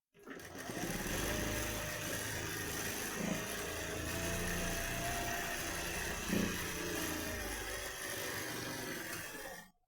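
A sewing machine runs a continuous top stitch on fabric, a fast steady whirring buzz lasting nearly ten seconds with a couple of brief bumps in between.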